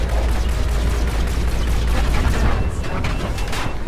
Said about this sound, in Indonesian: Wait, kita ditembak balik.